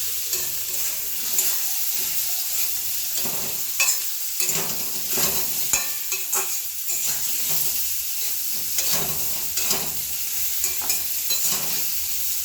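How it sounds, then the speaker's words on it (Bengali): Pointed gourd and potato stir-fried in a pan with salt and turmeric, a steady bright sizzle running throughout, broken by repeated scraping strokes of a spatula, close and fairly loud, with no voices. "নুন আর পরিমাণ মতো হলুদ দিয়ে দিয়েছি। এটা ভালো করে নাড়িয়ে ভেজে নিচ্ছি।"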